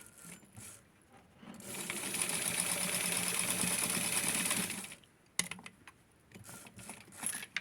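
Sewing machine stitching felt doll clothes for a Skipper outfit, running in one steady buzzing burst of about three seconds between quiet handling clicks and rustles before and after.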